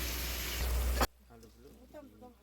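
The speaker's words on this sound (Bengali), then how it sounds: "এখন আলুগুলো ছেড়ে দিচ্ছি।" A loud hiss of potatoes hitting hot spiced masala in a pan fills the first second, then cuts off abruptly, leaving a quiet room where someone speaks.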